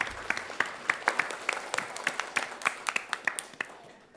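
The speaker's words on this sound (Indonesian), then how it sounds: "Boleh kita berikan tepuk tangan untuk ibu kita yang mungkin sedang menyaksikan Cepat Tepat kali ini" Applause from the audience of a televised quiz show, a brisk run of sharp, uneven claps that goes on for about four seconds, close and with no talk.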